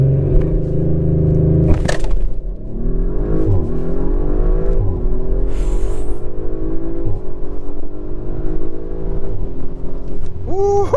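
A 2023 Audi RS5 Coupe launches hard from a standstill in all-wheel drive, its engine roaring loud and close with a rising, continuous rev and a sharp crack early on. No speech is heard over it.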